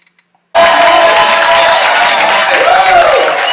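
After a brief quiet moment, loud applause from a crowd in the Dominican Republic bursts in and keeps going at full strength, a thick wash of clapping with faint voices inside it.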